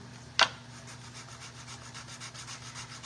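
A 120-grit sander works paint off a wooden craft bird, a steady soft rasping hum with faint repeating strokes after one sharp knock near the start.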